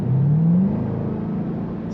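A 2021 Dodge Durango SRT Hellcat, a 710-horsepower three-row SUV, revs hard under acceleration in automatic mode, its engine note climbing steadily as a loud, continuous drone with nobody talking.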